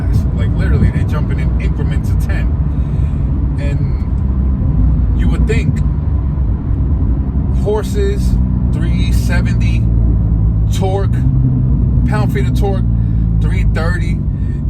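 A 2017 Porsche 911 Carrera engine roars under hard acceleration with a constant loud rumble, while someone talks intermittently over the noise.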